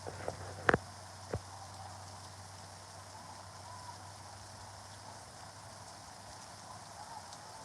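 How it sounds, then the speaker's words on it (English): Steady rain falls outdoors in North Carolina as a constant soft hiss with a low hum underneath, broken by a couple of brief knocks near the start. "Coming to rain here."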